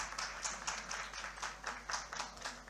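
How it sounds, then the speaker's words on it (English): A small audience at a formal committee gathering gives a quiet round of applause, a brief patter of scattered hand claps with no voices. "A big round of applause, please."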